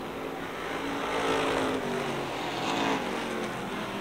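Race cars at Rockford Speedway roaring around the oval during a bracket race, a loud continuous engine drone that swells and fades as cars pass, with no voices.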